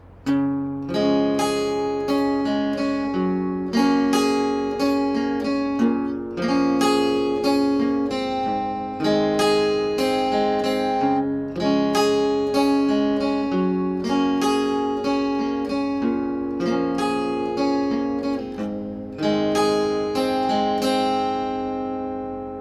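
An acoustic guitar strums a steady rhythmic chord progression from a song, chords ringing out in a repeating pattern, close and clear with no voices.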